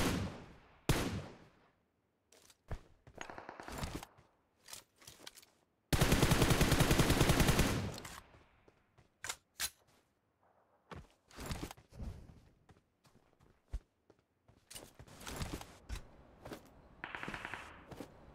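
Bursts of M762 assault rifle fire in a video game: scattered single shots and short volleys spread through the stretch, with one long sustained automatic burst near the middle, loud and close, with no talking.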